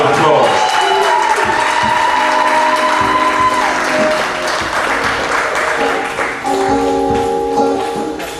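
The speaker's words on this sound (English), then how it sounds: "Round of applause." Loud audience applause and cheering fill a community cultural gathering celebrating Marcus Garvey, the crowd noise continuous and dense over sustained musical tones, with some voices mixed in.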